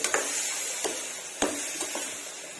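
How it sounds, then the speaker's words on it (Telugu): Brinjal pieces are stirred in a frying pan, giving a steady close sizzle broken by a few scraping strokes of the spoon against the pan. "వంకాయ ముక్కలను అయితే వేస్తున్నాము ఇలా కలుపుకోవాలి"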